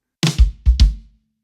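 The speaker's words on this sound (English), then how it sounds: "a little lick with a flam and a couple kick drums in a syncopated pattern like this" A short drum lick with a quick flam followed by a couple of deep kick drum hits in a syncopated pattern, played alone.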